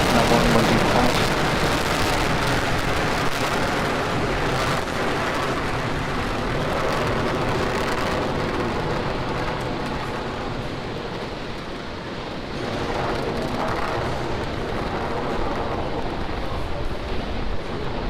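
A Falcon 9 Block 5 rocket launching with a Dragon CRS-20 cargo capsule gives a continuous, broad crackling roar that stays steady and powerful throughout, heard from a distance.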